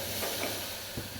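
A cooking pot on a home stove hisses and sizzles steadily, a continuous close-up noise with no talking.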